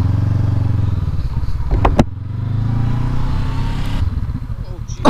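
A 2019 Honda CB500X motorcycle engine runs steadily at close range, rising and settling as the bike rides in circles, with a brief louder surge around the middle and constant low rumble throughout.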